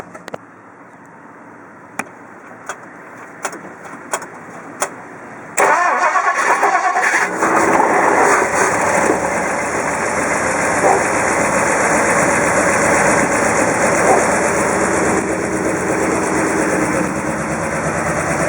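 A 1958 Edsel Ranger's engine cranks after a few clicks, catches and fires loudly, then settles into a steady close rumbling idle that continues to the end.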